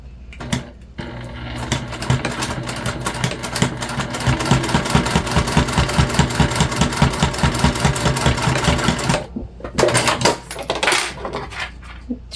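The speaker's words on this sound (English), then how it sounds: "we're just going to do a straight stitch to close this up" A sewing machine runs a straight stitch to close a fabric wristlet pouch, a fast even mechanical whirr lasting several seconds with brief pauses near the start and end, loud and close.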